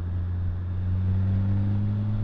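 Large touring motorcycle, a Honda Goldwing or BMW K1600B, cruising steadily in sixth gear, its engine a smooth, constant low hum with no audible shifting or speech.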